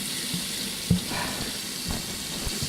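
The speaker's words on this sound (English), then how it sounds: "Washing my hand under hot," A hand is washed under steady running tap water in a kitchen, a continuous close hiss and splash with a few small knocks.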